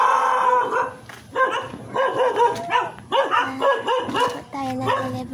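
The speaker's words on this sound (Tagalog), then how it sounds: "Nagkakahuli po yung aso." A dog barks repeatedly at a house during a delivery, loud and close, with howling, yipping bursts in a quick uneven rhythm and no talk over it.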